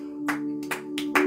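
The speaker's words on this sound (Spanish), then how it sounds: "Dale un aplauso al Señor" A church congregation applauds during a Spanish-language worship service, a few bursts of clapping over a steady sustained organ or keyboard tone, short and fairly close.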